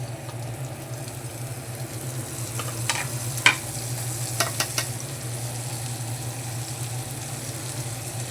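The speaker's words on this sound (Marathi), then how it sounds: "तसंच आपण कांदा आणि मिरची टाकून घेऊया" Chopped onion and green chili frying in oil on a griddle pan, a steady close sizzle with a few sharp scraping stir strokes in the middle, no voices.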